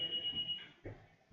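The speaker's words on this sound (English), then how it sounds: "Oh no, he still has the fire alarm in the castle." A fire alarm rings inside a castle in a Dragon Ball Gaiden game, a steady high electronic beep sounding for about half a second, then cut off as low thumping bursts follow, fairly quiet overall.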